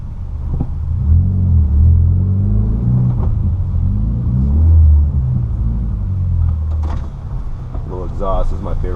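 A 2013 Mitsubishi Evo X exhaust rumbles steadily and loud up close, swelling in a couple of throttle blips, with a muffled voice briefly audible near the end.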